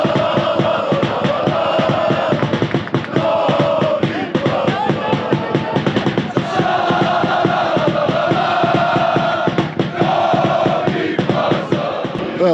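Torcida Sandžak football supporters in Novi Pazar chant loudly and rhythmically in unison, a dense, continuous crowd roar that fills the whole stretch.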